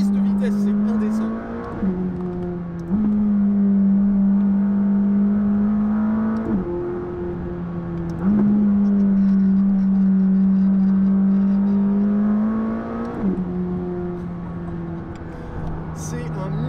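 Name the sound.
McLaren 600LT sports car accelerating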